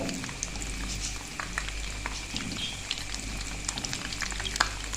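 Potato and cheese drumsticks wrapped in pizza dough fry in hot oil, giving a continuous bubbling hiss with scattered crackles and pops, close by, with no speech.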